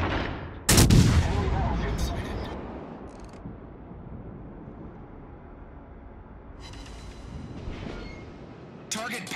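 Naval gunfire in World of Warships: a heavy salvo blast booms near the start and rumbles away, with lighter cracks and a second shot at the end. A voice speaks partway through.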